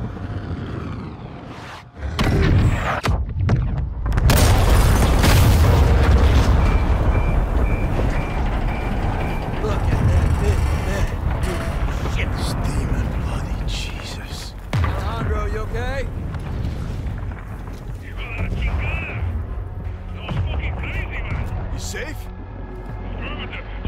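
In the Call of Duty: Modern Warfare II campaign, a missile and its rig are destroyed in a loud, sustained rumbling blast that rolls on for many seconds and then slowly fades, with voices and radio chatter heard over it.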